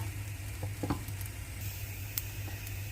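Bread tossed with masala frying on a stovetop for kothu bread, giving a steady close sizzle with a few soft stirring taps and scrapes, no talking.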